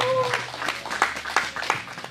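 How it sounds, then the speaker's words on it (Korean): At a Wednesday rally in Soseong-ri opposing the THAAD deployment, a handful of scattered, fairly sharp claps ring out at irregular intervals, with a brief voice at the start. "우리 이종희 위원장님께 큰 박수 다시 한번 부탁드리겠습니다"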